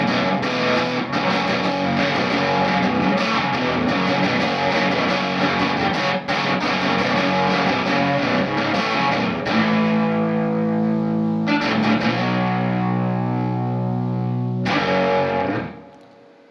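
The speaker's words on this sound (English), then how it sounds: "It goes from that kind of light classic rock crunch to even crunchier." Electric guitar played through Catalinbread Dreamcoat and Skewer distortion pedals, a thick crunchy garage-rock tone with sustained chords and strummed riffs, loud and continuous before fading out at the end.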